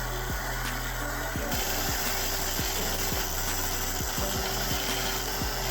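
A power tool grinding out a tooth on a rock-cutting saw blade, a loud continuous whine with a steady, repeating rhythmic scraping pulse that runs unbroken to the end.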